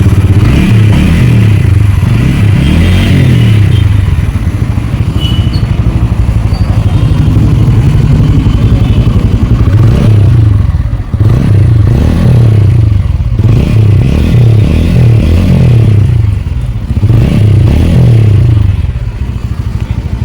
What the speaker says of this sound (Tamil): வண்டி சத்தமே இல்லாமல் ஸ்டார்ட் பண்ணி அதோட சைலன்சர் சவுண்ட் வந்து சூப்பராக இருக்குது